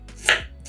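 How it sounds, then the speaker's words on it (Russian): A knife chops through a halved red onion, slicing it into half rings on a board: one sharp, close cut stands out alone among quiet kitchen handling noise. "Одну половинку лука нарезаем полукольцами."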